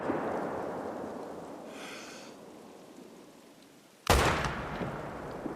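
A single sharp crack from a Solokhin MN1890 rifle in theHunter: Call of the Wild, loud and close, with a lingering tail rolling off over a hushed outdoor ambience.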